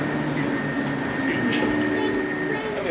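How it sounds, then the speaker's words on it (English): A small miniature train at a steam museum rumbles past nearby with a steady rolling clatter and a faint high whine, continuous for the whole stretch. "Oh, here comes the train."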